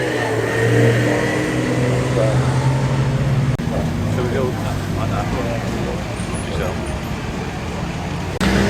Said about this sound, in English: Glorious vintage Alfa Romeo.